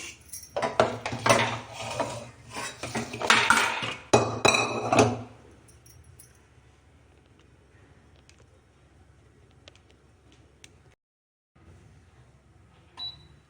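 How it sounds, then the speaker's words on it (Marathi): Cooked pav bhaji being mashed in a wide pot, a run of close clinks and metallic knocks for several seconds, then quiet with a few faint taps. "पावभाजी व्यवस्थित शिजून झालेली आहे आता तिला स्मॅश करून घेऊया"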